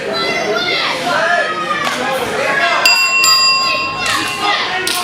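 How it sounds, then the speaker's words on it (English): Bell ringing at the start of a tag team wrestling match at the Bartholomew County Fairgrounds, a few bright rapid clangs amid loud crowd noise and children's voices nearby. "the bell rings at the Bartholomew County Fairgrounds for this tag team competition"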